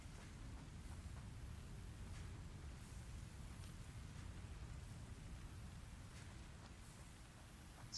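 Rain falling in the video game Satisfactory, a steady, even hiss of dense rainfall that stays soft and constant throughout with no other sounds rising above it.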